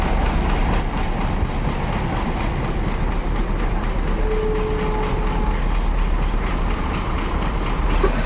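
A Putra Rafflesia coach bound for Jakarta–Bengkulu rolls in, a loud continuous diesel drone and rumble that stays steady throughout with faint high squeals of brakes or whistles.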